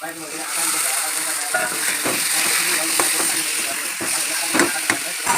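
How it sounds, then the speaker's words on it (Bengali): Goat meat frying in a pan with ground cumin, a loud, close, steady sizzle with scattered crackles and pops and a few sharper knocks as it is stirred. "এখন আমি পাঠার মাংসটা দিয়ে দেব"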